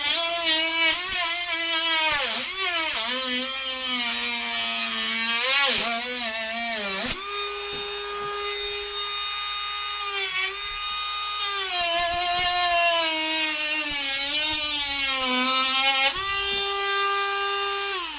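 A TACKLIFE rotary tool on its highest speed setting cuts through wood with a loud, close, high-pitched whine. The pitch sags and wavers as the bit bites in, then holds a steady scream, with brief dips under load.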